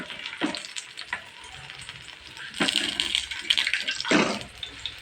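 Bara lentil fritters fry in hot oil with a close, continuous sizzle that flares in bubbling bursts as the batter cooks.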